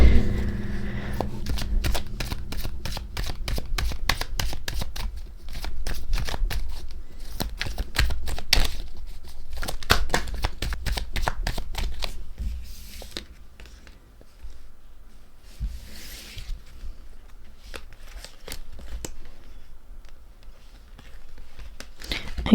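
Tarot cards riffle-shuffled in long rapid bursts of crisp flicking clicks, then slowed to separate snaps and soft slides as cards are drawn for a reading, close and alone without talk.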